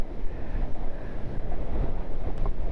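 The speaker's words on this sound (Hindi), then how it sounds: "काफ़ी हवा चल रही है" Strong wind buffets a microphone on a rough, off-road mountain route in Lower Mustang, Nepal, producing a continuous, gusty low roar and rumble up close.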